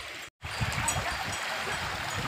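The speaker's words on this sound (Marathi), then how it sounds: "नाला मित्रांनो, बघा पाणी किती छान वाहतं आहे." Water flows steadily along a small village stream, a soft, continuous rushing burble heard up close after a brief cut at the start, with no other sounds rising above it.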